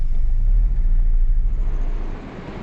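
A car driving off-road on a track toward the Kabini backwaters during a campervan trip: a loud, close, low engine rumble that holds steady and then eases off near the end.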